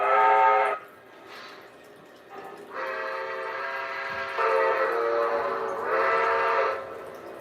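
A model steam whistle sounds in several sustained, harmonic blasts with short gaps between them, loud and close, with no talking.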